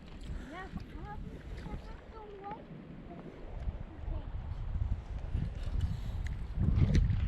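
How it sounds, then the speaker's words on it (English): A brisk wind blows by a river while fishing, making a steady rushing buffet over the microphone. Someone talks over it. "that wind is pretty brisk"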